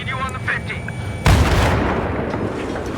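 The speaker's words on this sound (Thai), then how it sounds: "โอ้ยนี่ก็ยิงจังเลย" Heavy gunfire in Battlefield 3 during a tank fight, a loud booming shot cutting in abruptly and rumbling on, with someone talking in the background.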